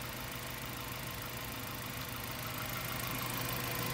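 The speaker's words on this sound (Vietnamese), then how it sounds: "Máy nổ cực êm luôn." A 2004 Mazda 3 engine idles smoothly and continuously nearby, a steady low hum with faint mechanical ticking.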